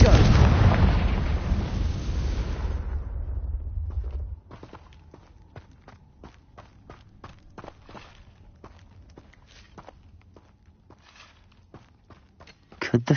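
Hogwarts Legacy gameplay: a loud, rumbling Confringo blast spell explosion fills the first four seconds, then fades to a quiet stretch of rapid footsteps and small clicks, with another burst starting right at the end.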